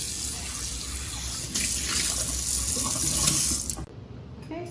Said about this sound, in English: I'm gonna rinse out my bowl with some cold water.